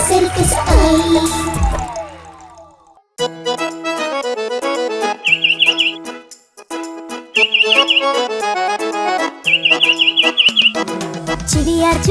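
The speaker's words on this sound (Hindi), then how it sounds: "चिड़िया चुगने आई दाना। चीची चीची गा कर गाना।" Bird chirps in a Hindi children's rhyme animation come in three quick trilling bursts over bouncy cartoon music, repeating at a steady interval.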